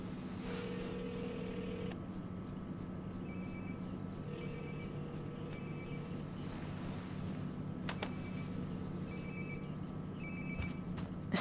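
A phone rings in the video game Life is Strange: Before the Storm, a faint repeating electronic ringtone in evenly spaced bursts over a low steady background hum, with no talking.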